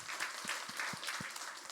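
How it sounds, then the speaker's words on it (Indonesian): A church congregation applauds during a worship service at GBI Rajawali MS Palembang, a brief burst of fairly faint, slightly distant clapping with a few lower thumps underneath. "Tepuk tangan yang semangat."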